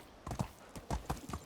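Donkey hooves clip-clopping in the medieval survival game Medieval Dynasty, a series of distinct thudding steps in an uneven walking rhythm, close and moderately loud, with no talking.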